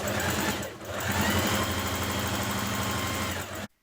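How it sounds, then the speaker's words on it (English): A sewing machine runs steadily while stitching the underarm seams of a top's sleeves, a continuous mechanical whir with a fast rhythmic needle pulse, close and fairly loud, stopping abruptly at the end. "Stitch your underarms of your sleeves."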